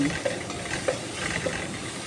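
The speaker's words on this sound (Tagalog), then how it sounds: "Gisa tayo ng luya tsaka sibuyas." Ginger and onion sautéing in a pan, a close, dense sizzle with a few soft scrapes and taps of a spatula stirring, steady throughout the short stretch.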